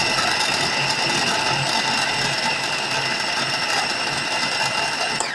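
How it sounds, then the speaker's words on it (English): A food processor crushing tomatoes whirs loudly and continuously, its motor grinding and chopping in a steady mechanical drone without pause. "I'm crushing the tomatoes here in the food processor again"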